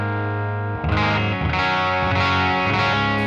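A Hagstrom Juice F electric guitar plays through a modeled Fender Deluxe Reverb amp set slightly dirty, a sustained chord followed by a few strummed, lightly distorted chords with chorus-like shimmer, loud and alone.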